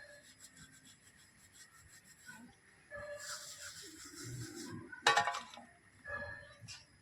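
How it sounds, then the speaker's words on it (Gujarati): Dishes and pots scrubbed by hand outdoors, steady rubbing and scraping strokes with clinks of metal utensils and pans, close and moderately loud, without talk. "હવે વાસણ ઘસવાનું ચાલુ કરી દીધું છે"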